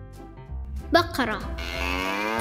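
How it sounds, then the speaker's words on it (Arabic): A cow moos in a long, drawn-out low call that swells and holds steady for over a second, following a few shorter, rougher sounds, heard close and alone without talk. "صوت البقرة خوار."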